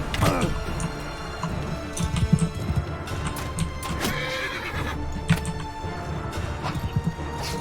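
A horse whinnies a couple of times amid busy game sound effects in Mount & Blade 2, with clattering and mechanical noises in the background.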